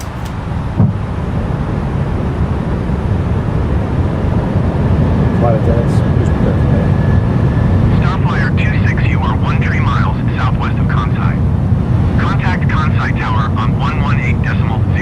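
Airbus A320neo cabin on landing approach, with a loud, constant low rumble of engine and airflow noise; a voice speaks over the roar partway through.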